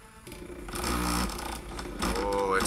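A Singer 404 sewing machine stitches through vegetable-tanned belt leather layered with denim, running in short, close mechanical bursts that strain under the load, with someone talking over it.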